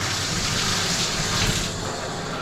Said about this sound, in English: when you turn the water on